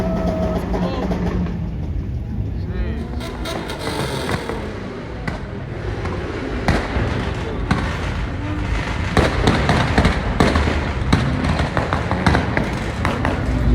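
Cars two-stepping at a Southern California car meet, with a dense run of sharp exhaust pops and bangs over rumbling engines, loud and close, intensifying toward the end; voices are faintly mixed in.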